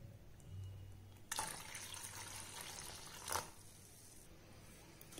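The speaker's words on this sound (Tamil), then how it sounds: "இப்போ தண்ணி சேர்த்துக்கலாம்." Water is poured into thin rava dosa batter made from semolina, a quiet splashing stream lasting about two seconds before stopping.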